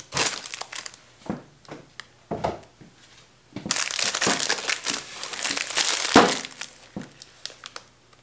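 Plastic packaging around a handmade soap bar crinkles and crunches up close, with a few small snips and rustles building into a steady crumpling stretch, no voices.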